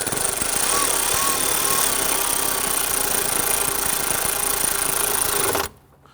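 A power tool snugs bolts on the 3.5L V6 engine of a 2011-2017 Nissan Quest during an ignition coil replacement, giving a steady, loud whirring buzz that runs continuously for several seconds, then cuts off abruptly.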